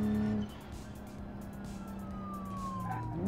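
A police siren in BeamNG.drive wails faintly over a steady car engine drone, its pitch sliding slowly as it continues in the background.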